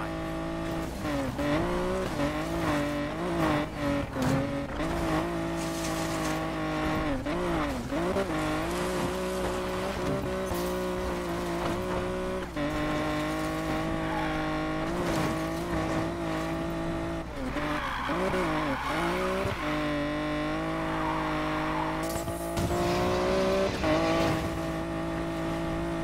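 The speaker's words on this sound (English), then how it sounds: "This car can go so fast, man." Race car engine in the video game Need for Speed Payback, revving and shifting continuously with rising and falling pitch, tire squeals and skids cutting in, loud and sustained with no talk.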